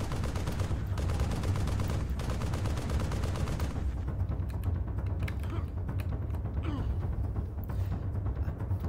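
Shotgun loaded with fire shells blasting repeatedly in the Turok video game, with dense, loud gunfire and explosive bursts filling the first few seconds, then continuing bangs over a busy game soundscape.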